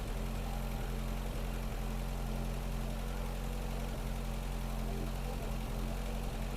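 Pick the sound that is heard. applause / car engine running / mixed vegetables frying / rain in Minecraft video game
car engine running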